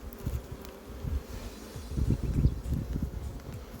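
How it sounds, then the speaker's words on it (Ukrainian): Honey bees buzz close by in a dense, continuous hum that swells and fades as they move around, with no voices. "Бджола практично вся з пилком, тягнуть шодурні пилок, вся в обножці"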